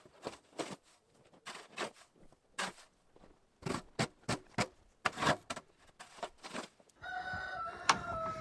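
Inside a chicken house in frigid winter, a rooster crows in a run of short, rhythmic bursts, close and clear, before a rustling, scratchy stretch near the end.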